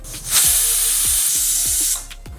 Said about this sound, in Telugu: ఐదారు విజిల్స్ వరకు వచ్చాయి కదా ఇప్పుడు ప్రెషర్ కుక్కర్ని ఆఫ్ చేసుకొని